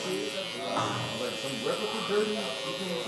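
An Andis GTX Exo hair clipper fitted with a Babyliss DLC blade buzzes steadily as it cuts hair close by, with someone talking over it throughout.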